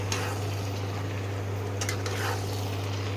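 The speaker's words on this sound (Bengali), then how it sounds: "এবারে মাংসটাকে ভালো করে কষাতে হবে।" Meat stirs and fries in a hot pan, with a steady, close sizzle throughout and a few sharper scrapes and clinks of the spoon against the pan.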